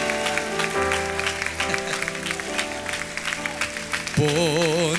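Church congregation applauding as an offering to God during a Spanish-language service, a sustained wash of clapping blended with organ or keyboard chords and singing, fairly loud and continuous.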